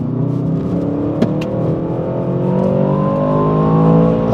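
An Aston Martin DBX707 SUV accelerates steadily on a highway, its engine note rising in a continuous loud, close whir and roar for a few seconds with no voices over it.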